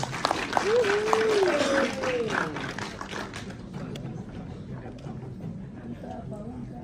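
An audience claps for two performers at a film press conference, a moderate burst of applause that fades out gradually while a voice speaks over it.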